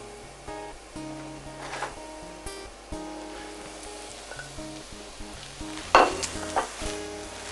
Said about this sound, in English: Just a little mix around in the pan so they're not all on top of each other